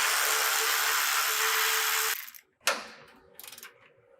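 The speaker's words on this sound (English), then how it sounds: "we're going to remove the nuts off of our transmission crossbar bolts" Power tool whirs steadily for about two seconds while backing off 14 mm nuts from the transmission crossbar bolts on a 2010-2024 Toyota 4Runner, followed by short metallic clinks and a brief second burst of tool noise.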